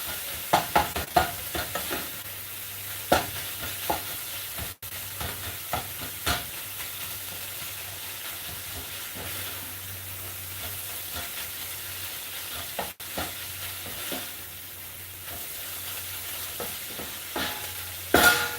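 Chopped onions fry and sizzle in a pan for samosa filling, a steady hiss broken by repeated scraping and clattering strokes of a spoon stirring them, with no voices over it.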